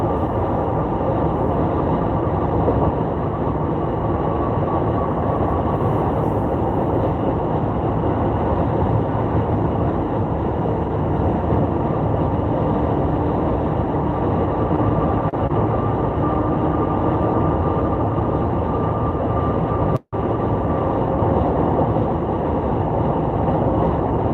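Steady interior road noise inside a vehicle being driven, a constant loud low rumble and hum that continues unbroken throughout, with one brief sharp dropout near the end and no talking.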